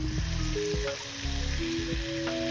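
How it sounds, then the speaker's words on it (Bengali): Oyster sauce hits a hot pan, setting off a loud, dense sizzle that crackles steadily, with stirring scrapes and a few light knocks of a spoon against the pan. "এখন আমি ওস্টার সস দিচ্ছি 1 চামচের মতন"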